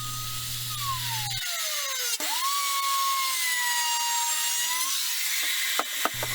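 Wood router making passes through a clamped wooden workpiece, cutting progressively deeper, sounding as a loud steady whine with pitch that sweeps and dips as the cut loads the motor, with no talk.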